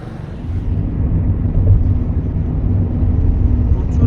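Car cruising slowly along a smooth highway, a steady muffled road rumble and engine drone heard from inside the cabin.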